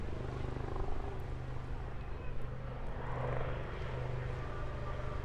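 A Fairey Swordfish biplane with a propeller engine at a seaside airshow, a continuous droning engine roar holding steady at moderate distance, with no talk.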